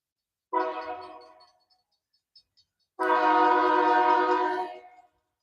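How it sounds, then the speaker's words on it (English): Approaching train sounding its horn, a short blast followed after a pause by a longer loud sustained blast, close and clear with nothing else under it. "I don't know if we'll all be able to see the train. It's coming."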